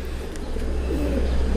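Golden breed pigeon cooing softly in a loft, a low murmuring coo heard close by amid faint room noise.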